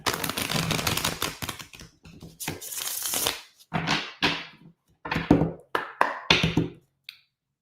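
A deck of tarot cards is shuffled by hand in a string of crisp riffles and bursts of flicking, ending in a few sharp taps. The sound is close and clear, with no speech.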